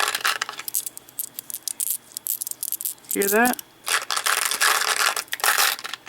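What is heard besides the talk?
glass beads clinking together in a bag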